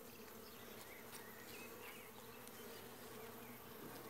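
Honeybees hum in a steady, dense drone from an opened hive during an inspection. The buzz is close and continuous, with individual bees passing and no talking.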